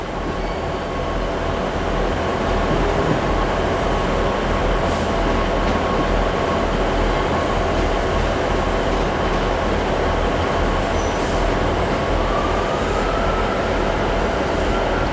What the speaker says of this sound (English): the LNER HST is on the move again.